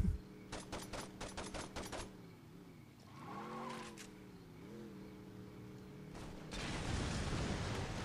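A quick run of rapid gunshots in the video game Saints Row 2 cracks out early, then a humming vehicle engine sweeps in pitch, and a loud broadband rush swells at the end.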